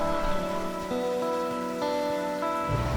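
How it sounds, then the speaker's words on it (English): Torrential rain pours down steadily on the roof and surroundings of a camping trailer at a racetrack during severe weather, a constant close hiss with a faint hum underneath. "it is a torrential downpour outside"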